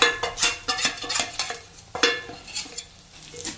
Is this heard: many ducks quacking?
no